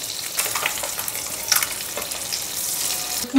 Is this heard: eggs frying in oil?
yes